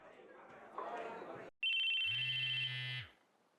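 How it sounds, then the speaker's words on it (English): An electronic cell phone ringtone in the visual novel Chaos;Head Noah sounds after a sharp cut, a bright steady chirping tone over a low buzzing vibration that stops abruptly, preceded by a voice talking. "An electronic sound suddenly rang through the classroom. I felt a faint vibration near my chest. It was my cell phone."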